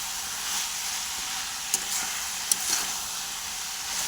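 Vegetables with turmeric and salt fry in a covered pan, giving a soft, even sizzle and hiss with a couple of faint clicks and no talking.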